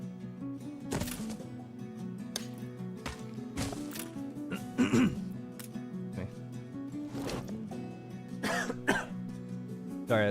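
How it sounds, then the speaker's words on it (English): Several coughs and throat clears from a person with a lingering cough, close and fairly quiet, spread through a calm stretch of strategy-game play in Anno 1800. "Sorry, I had a cough recently."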